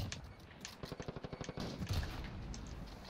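Rapid automatic gunfire in a Call of Duty match, a burst of evenly spaced shots at moderate level, followed by a muffled heavier thud among ambient game noise.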